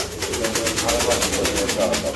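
Fancy pigeons of a large breed coo at a pigeon sale, a soft low pulsing repeated steadily under broad background noise, with voices nearby.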